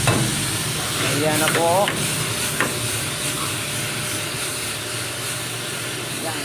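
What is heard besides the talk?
sizzling tofu on a hot plate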